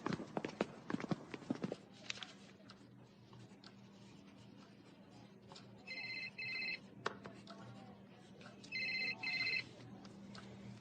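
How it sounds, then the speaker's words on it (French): A telephone rings in two short bursts of electronic trills, moderately loud, in an indoor scene from a French film, with talk and a few knocks before it and a low steady hum beneath. "C'est le téléphone de qui?"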